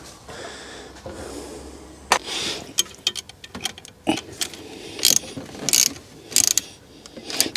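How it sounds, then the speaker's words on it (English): A socket ratchet wrench working on the EGR part of a Rover 75, with bursts of rapid clicking pawl strokes close by, alternating with short pauses and clinking metal handling. "Now we'll get a socket on there because that'll make it a little bit easier"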